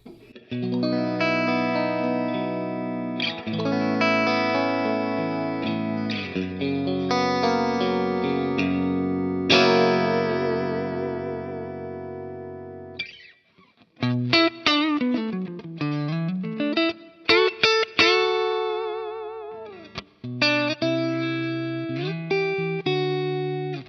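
An electric guitar played through a Dr. Z Antidote amp profile on a Kemper, with distortion and effects, rings out in sustained chords and then choppier riffs with bends, loud and alone.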